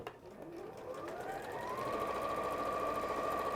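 Sewing machine chain stitching fabric, the motor whirring up in pitch over the first two seconds and then running at a steady, fast, buzzing speed.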